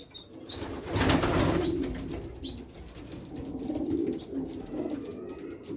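Homing pigeons coo softly inside a coop, with a burst of wing flapping near the start and low murmuring calls continuing throughout. Nobody speaks.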